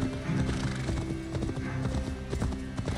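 Rhythmic hoofbeats of a trotting horse in Assassin's Creed Valhalla, clear and close, with a steady clip-clop pattern and a dense ambient backdrop.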